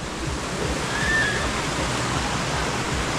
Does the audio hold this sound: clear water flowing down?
yes